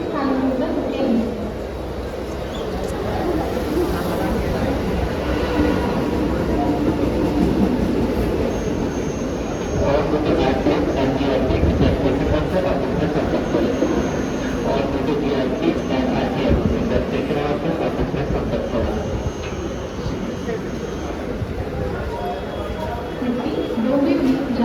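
A Mumbai local train pulls into Mulund station with a loud rumble and clatter of wagons that builds and holds, while public-address announcements play over the platform.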